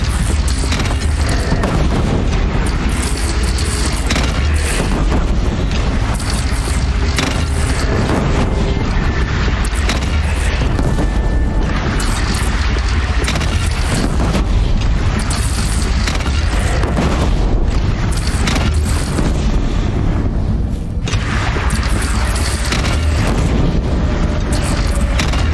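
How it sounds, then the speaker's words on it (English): A bandit cannon in Horizon Zero Dawn fires through a sustained battle: heavy, continuous booming blasts and explosive bursts that stay loud throughout, with no talk audible. "They only have one cannon!"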